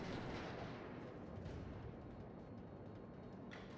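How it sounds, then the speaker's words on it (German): Naval guns fire in the World of Warships video game, with deep booming blasts and rumbling over a dense, roaring battle background. "ich schieße nur mit meinen vorderen beiden Kanonen auf die"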